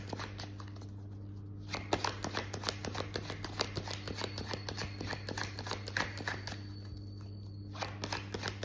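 Tarot cards are shuffled and dealt in a steady run of quick crisp flicks and riffles, close and fairly quiet, over a constant low electrical hum with no talking.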